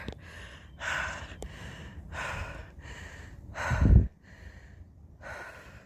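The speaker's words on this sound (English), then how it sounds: "Sorry for the heavy breathing." Heavy, labored breathing close to the mic while hiking the Appalachian Trail in high heat, a series of loud breaths in and out with one stronger gasp near the end, no talking.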